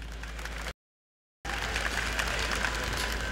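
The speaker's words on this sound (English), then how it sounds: "Giving him a round of applause," Audience applause for contestant Sheldon John at the 2007 Carnival Extempo finals: a steady, dense clapping from a crowd that cuts out completely for a moment of silence partway through, then resumes at the same level.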